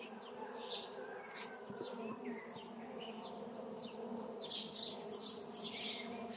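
Caucasian honeybees, weakened after winter, buzz at the hive in a soft, steady, close drone with individual bees passing nearby and faint bird chirps in the distance.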